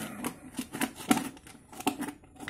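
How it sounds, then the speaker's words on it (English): Scissors snipping through plastic soda bottles: a series of quiet, close, irregular crisp cuts and crunches, about half a dozen over a couple of seconds, without speech. "I'm cutting these soda bottles like this."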